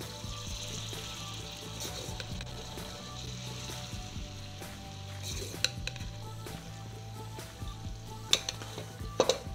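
Flour stirred into melted butter in a pot, a soft continuous sizzle with spoon scrapes and a few sharp clinks of utensil against metal near the end, with a steady low hum underneath.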